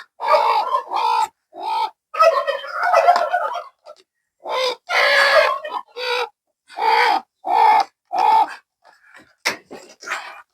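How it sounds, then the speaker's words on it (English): Hens in a farm chicken coop squawk and cluck in a run of short, loud, close bursts with brief pauses between them, heard alone during egg collection. "There's a hen there laying an egg, but I want to collect whatever is there."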